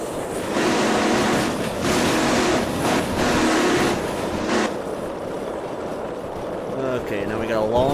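Long freight train load rolling on rails in the railway simulator game Derail Valley, a steady broadband rumble with rhythmic clatter and swells, heard close and continuous, with a voice talking over parts of it.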